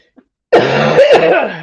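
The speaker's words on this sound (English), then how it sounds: "I'm having a lot of coughing today." A single loud, harsh cough close to the microphone, rasping for about a second before trailing off, with silence just before it.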